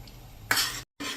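Dal with tempering being stirred in a pot over a medium gas flame: scraping, sloshing stir strokes with a light sizzle, loud and close, cut off by a brief silent gap before the stirring resumes.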